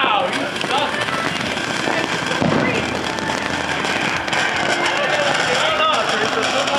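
July 4th fireworks crackle and pop in a dense, continuous barrage outdoors by a pool, with a louder burst near the middle, while people talk throughout.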